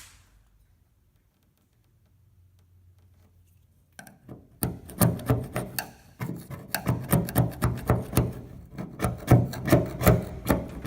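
Putty knife scraping layers of old 1990s paint off a 1953 Chevy 210 hardtop, starting after a quiet few seconds and then going on as a steady run of rough, rhythmic close-up scrape strokes.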